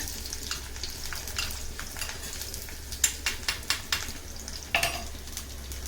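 Garlic frying in oil for a mango and fenugreek tamarind curry, with a steady low crackle and a series of sharp spoon taps and stirring clatters on the pan near the end, no talking.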